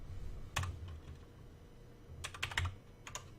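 Keys clack on a computer keyboard as RobotC code for a Vex Robotics robot is typed, a short burst of taps early on and then a quicker run of several keystrokes near the end, close and fairly quiet.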